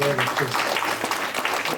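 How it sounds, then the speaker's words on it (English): A round of applause from a church congregation rises briefly beneath a voice, with clapping scattered across the short moment and a few spoken words over it. "I just want to give her another round of applause."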